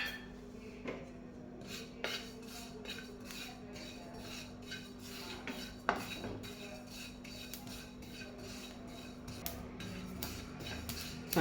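White sesame seeds roast in a metal kadhai, stirred with a utensil that scrapes and taps the pan in irregular clicks and rubs over a faint steady hum, fairly quiet and without talk.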